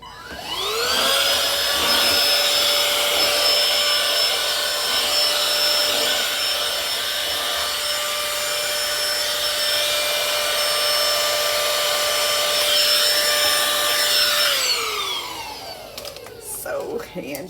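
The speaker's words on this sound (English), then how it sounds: "All right, vacuum cleaner." Small handheld vacuum cleaner tidying up a crafting mess, whirring steadily and loudly at close range for about fourteen seconds before spinning down, followed by brief handling noises.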